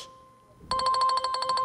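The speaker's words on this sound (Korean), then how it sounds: "저기 한국에서 전화가 와서요." After a faint steady tone, a phone ringtone begins partway through with a fast, evenly pulsing electronic ring for an incoming call from Korea, clear and fairly loud with no voices, on a Korean variety show.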